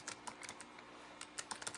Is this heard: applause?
no